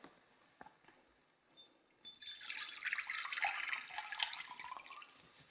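Water is poured off sprouting seeds in a jar through a screen lid, beginning with a few faint drips, then becoming a steady, close splashing trickle that runs for several seconds.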